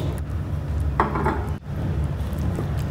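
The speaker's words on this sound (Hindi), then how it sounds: "अब इन सब चीज़ों को अच्छी तरह मिक्स कर दूंगी और थोड़ा सा मैं पका लूँगी" A metal spoon clinks and scrapes against a cooking pot while shawarma sauce ingredients with crushed red chilli are stirred together, a few close knocks over a steady background hum.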